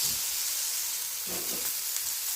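Chicken breasts frying in a grill pan give off a steady, close sizzling hiss that runs continuously, with a few soft bumps underneath and no talking.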